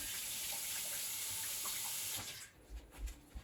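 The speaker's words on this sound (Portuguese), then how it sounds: "E levamos novamente a nossa espátula à água quente." A cake-decorating spatula dipped into hot water, heard as steady running water from a tap that stops, followed by a few low knocks and clunks close by.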